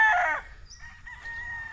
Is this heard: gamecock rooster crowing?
yes